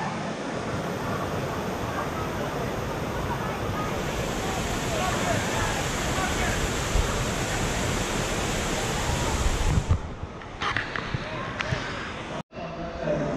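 Loud, constant roar of Dunn's River Falls rushing and splashing nearby, a dense wash of water noise that drops off abruptly near the end.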